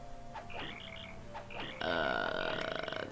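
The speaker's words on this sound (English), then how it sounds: "That actually sounds like a frog, not a cricket" Frog-like croaking call from the Paper Mario: The Thousand-Year Door video game, two short croaks followed by a louder, sustained warbling tone, with game music underneath.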